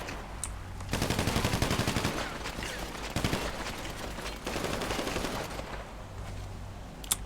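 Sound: gunfire in the video game GTA V

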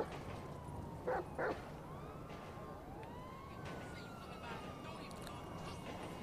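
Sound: dog Chop barking in video game Grand Theft Auto 5

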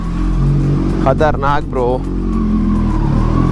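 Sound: motorbike engine revving as it leaves

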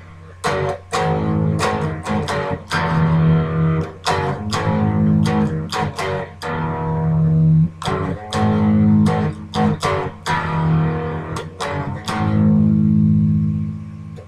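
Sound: electric guitar playing a song intro

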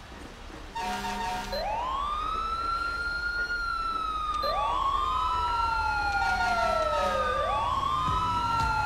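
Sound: emergency vehicle sirens responding in GTA 5 video game

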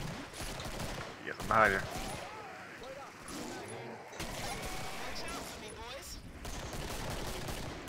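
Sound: gunfire in Killing Floor video game

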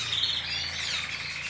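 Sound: birds chirping

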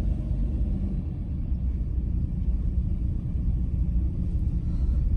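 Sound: car driving along Mount Olympus Drive, Hollywood Hills

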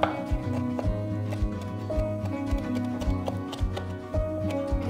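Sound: knife mincing raw shrimp on a cutting board

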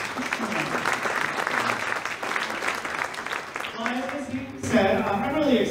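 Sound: audience applauding school band at a concert

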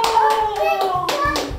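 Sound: child clapping hands

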